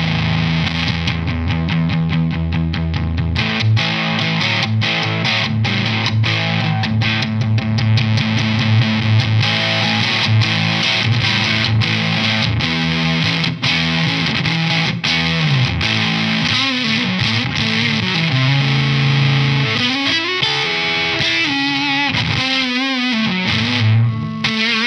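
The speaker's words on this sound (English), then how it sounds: "So that's the germanium and the silicon fuzz you can choose from." Electric guitar played through a Dunlop Jimi Hendrix '68 Shrine Series fuzz pedal with germanium and silicon modes, giving a loud, continuous, saturated distorted tone with riffs, chords and bends, without any voices.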